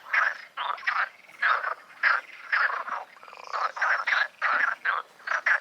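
Frogs croak in a steady series of short rhythmic calls along a Camino de Santiago route, loud and close with no voices over them.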